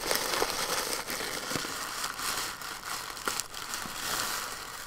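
A package of yarn being cut open by hand, with a steady close crinkling and tearing of packaging material, quiet and without talk.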